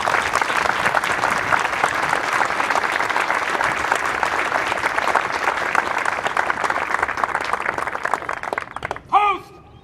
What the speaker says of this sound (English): please join me in a round of applause for these Marines and sailors